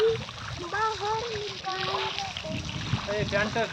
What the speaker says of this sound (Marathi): ते परी आणि दाजी मस्त मारताय पाणी किती छान प्रकारे हे बघा